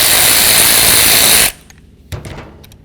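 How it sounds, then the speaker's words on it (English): Power tool whirring loudly to remove a 13mm nut from the windshield wiper transmission of a 2002-2008 Dodge RAM 1500, stopping abruptly, followed by a few faint metallic clicks and handling clatter. "Remove that 13mm headed nut."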